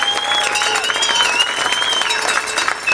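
Crowd applause at an outdoor cycling race stage-finish ceremony, with loud, sustained clapping and a whistle-like tone running over it.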